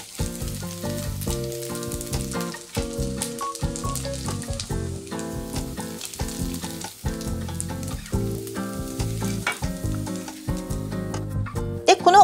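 Yakisoba noodles sizzle and crackle steadily in a hot frying pan, with occasional stirring scrapes, loud and close.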